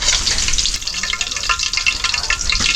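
Chicken balls frying in hot cooking oil, a loud, dense, continuous sizzle and crackle up close, steady throughout with no talking.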